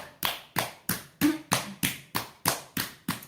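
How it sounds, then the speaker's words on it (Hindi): Single person doing a clapping exercise during a yoga health routine, with nine sharp, evenly spaced hand claps in a steady rhythm about a third of a second apart. The claps are close and distinct, with no talk between them. "बजाइए ताली, ढोलक"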